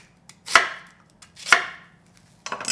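A knife slices through a potato on a cutting board for a spicy Korean potato side dish, three crisp separate cuts against the board in a quiet kitchen, no talking.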